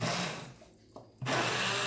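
An immersion blender chops vegetables for tomato basil soup with a loud, steady whir that drops off briefly in the middle and then resumes at full strength.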